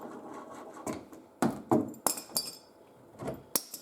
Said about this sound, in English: So if I remove these clamps